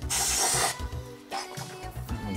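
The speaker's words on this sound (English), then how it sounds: "I think I'm going to spray a little bit of carb cleaner in there" A short, close hiss of carburetor cleaner sprayed from an aerosol can into a long-unused 1990 Kawasaki ZXR-750 motorcycle, a strong burst followed by a couple of briefer squirts.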